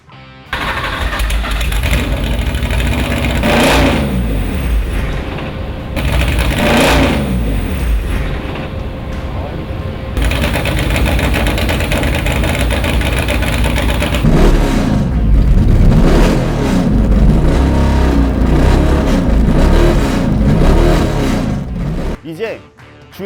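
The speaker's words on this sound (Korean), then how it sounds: "이제 시동을 걸어 엔진과 브레이크 상태를 확인해 보겠습니다." A Porsche 911 RSR 3.0 fires up and is revved repeatedly, with loud rising and falling engine surges separated by short drops back toward idle, all close by. Speech is also present.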